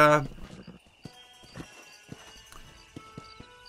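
Horse hooves clip-clop in the Red Dead Redemption video game, a series of distinct, fairly close thuds spaced unevenly over a low background, with no other prominent sound.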